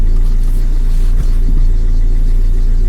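Car engine rumbles steadily at low speed while the driver pulls over to find a parking spot, a loud, continuous low drone inside the vehicle.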